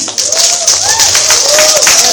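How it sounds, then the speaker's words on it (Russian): Applause from a crowd, a steady broadband patter of many hands, fairly loud and close, with a whistle-like tone sliding over it. "Ей аплодисменты!"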